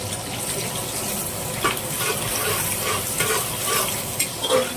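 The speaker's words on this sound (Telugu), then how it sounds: "దీంట్లో మనం మిర్చి కూడా వేస్తున్నాము, ఎందుకంటే దీంతో పాటే వేగిపోతుంది" Green chillies frying in oil in a pan for egg biryani, a steady close sizzle with occasional stirring scrapes, no talking.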